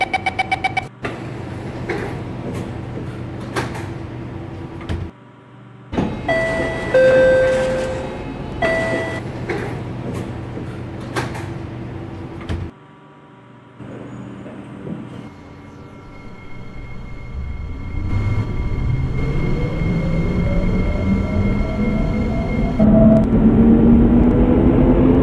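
An SMRT C751B train in the OpenBVE simulator closes its doors with a chime and sliding thuds, then pulls away as motor whine rises steadily over a broad rumble.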